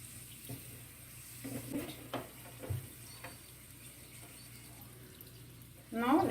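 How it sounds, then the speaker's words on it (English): Roat, a traditional flatbread, frying in a pan with a soft, steady sizzle and occasional stirring scrapes, fairly quiet throughout until a louder burst of frying near the end. "Let us stir and fry."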